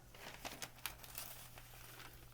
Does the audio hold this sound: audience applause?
no